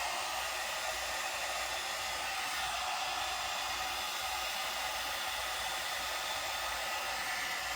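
A one-step hot air brush blowing on hair to dry and straighten it, a steady loud hiss of rushing air with a motor whine, unbroken and close.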